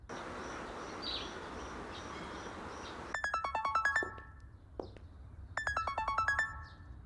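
A phone ringtone bursts in over a buzzing insect-like background, playing a bright, rapid electronic melody twice with a short pause between.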